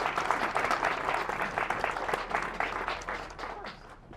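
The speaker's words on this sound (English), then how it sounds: "Would you please give Representative Driscoll a warm round of applause?" Audience applause for Representative Driscoll at a recreation center anniversary ceremony, a full, even clapping from a crowd that tapers slightly near the end.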